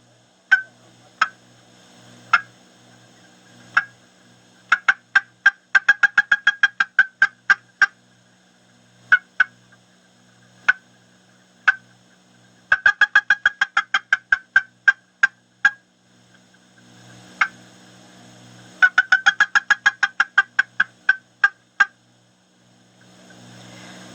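A turkey box call works through sharp, scattered single clucks, then rapid bursts of many clucks that swell and slow, mimicking a hen's fly-down cackle; loud, close and dry against silence.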